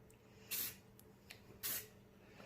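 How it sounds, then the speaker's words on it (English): Two short bursts of spray paint hiss close by, each about a quarter second, with a faint tap between them and a low background hum, while painting a DIY helmet stand. "kind of spraying the hard to get areas first."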